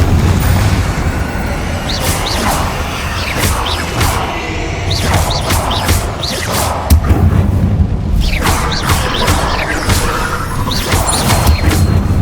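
Confringo spell blasts go off in Hogwarts Legacy, a dense run of loud booms and crashing impacts in quick bursts over a constant roar of combat noise, with brief whooshes between hits.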